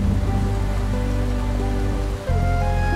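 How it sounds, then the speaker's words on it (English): Steady rain pours down on a surface outdoors before a trip to the farm, a dense continuous hiss broken only by a brief dip near the end, with a soft musical tone layered underneath. "I'm waiting for the rain to stop so that we can go to the farm."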